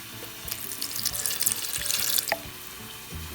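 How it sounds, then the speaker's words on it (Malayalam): About a quarter cup of water is poured over cashew nuts for grinding into a green pulao paste. It makes a close, splashing rush that lasts about two seconds and then stops, with no talking. "കുറച്ചൊരു 1/4 കപ്പ് വെള്ളവും ചേർത്തിട്ടുണ്ട്."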